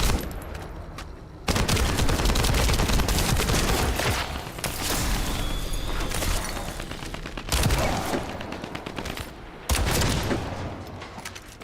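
Hand cannon gunfire in the shooter video game The First Descendant, loud rapid bursts of shots that run almost nonstop with brief gaps between volleys.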